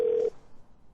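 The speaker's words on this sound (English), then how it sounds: "At the tone, please record your message." A single steady answering-machine beep, loud and close, lasting about a quarter second before cutting off to quiet room hiss.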